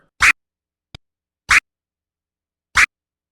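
Three short, sharp DJ chirp scratches on a turntable, evenly spaced and alone, each a quick bright cut with a faint tick between the first two.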